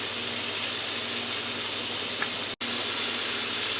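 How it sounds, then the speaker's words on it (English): Chicken livers fry in a pan with a steady, close sizzling hiss that holds evenly throughout, broken only by a split-second dropout, and no one talking. "while our chicken livers is frying"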